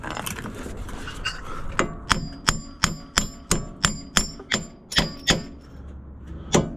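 A hammer strikes a metal suspension part on a Ford MN12 Thunderbird during repairs, about a dozen sharp metallic blows in a steady rhythm with a ringing clink on each, close and loud after some quieter rattling.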